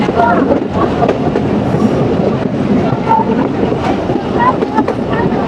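A Mongla commuter train rolls into a railway station with a loud, continuous rumble and rattle heard from on board, while a person talks over the noise.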